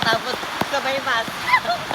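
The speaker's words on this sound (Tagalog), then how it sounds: "Umuulan po ngayon." Rain falls outdoors as a soft, continuous wash beneath a person talking, the steady patter staying faint under the voice.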